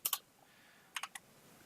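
Someone types Korean text on a computer keyboard: two quick key clicks, a pause, then a burst of three more, close and fairly quiet in an otherwise still room.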